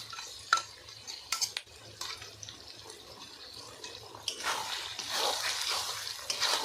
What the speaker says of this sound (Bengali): সবজির সঙ্গে ভালোভাবে মিশিয়ে